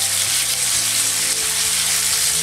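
Marinated salmon fillets sizzle steadily in hot oil on a griddle pan, a close, continuous crackling hiss with no voices.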